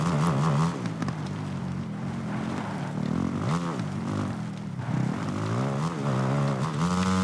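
A motorcycle engine races around a track in the video game Supercross 2, revving up and down continuously with rising and falling pitch as it accelerates, shifts and slides through corners.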